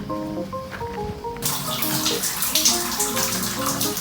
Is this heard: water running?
yes